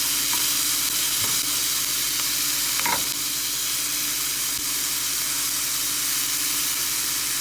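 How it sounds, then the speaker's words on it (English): Raw chopped vegetables for meatloaf frying on high heat in a hot pan, a steady loud sizzle and hiss with a few stirring scrapes, no talk. "to cook this down a little bit, so we're not putting raw vegetables into our meatloaf"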